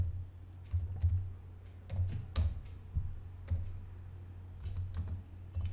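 Keys tapped on a computer keyboard while entering terminal commands, a run of quick close clicks in short bursts with pauses, over a steady low hum.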